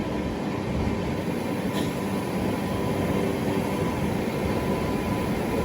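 Janshatabdi Express between Chennai Central and Vijayawada runs at cruising speed: a loud, steady rumble and roar heard from inside the carriage, continuous and unbroken throughout.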